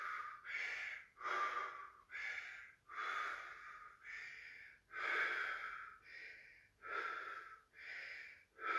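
Heavy rhythmic breathing during a HIIT workout, with about a dozen loud, close, harsh breaths in steady succession and no other sound.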